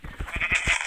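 A sheep in a video game bleats in a short, wavering burst of pulses, close and moderately loud, with no talk over it.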